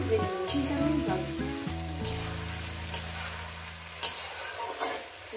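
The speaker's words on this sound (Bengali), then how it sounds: "এরপর দিয়ে দেবো পেঁয়াজটাকে। আরও আমি 3 মিনিট ভেজে নেবো" Onion frying in a pan while poppy-seed posto is cooked: a continuous sizzle with a few sharp stirring clinks, under steady background music.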